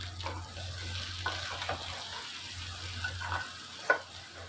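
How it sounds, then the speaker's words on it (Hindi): Mutton pieces frying with garlic-ginger paste in a pot, a steady low sizzle running under intermittent scraping and stirring strokes, with one sharper clank near the end; no talk. "टू टेबल स्पून लहसुन अदरक डालकर 1 मिनट भुनाई करेंगे।"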